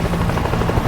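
A helicopter in the video game World War Z, its rotor and engine drone filling the short moment loud and steady, close by with no pause.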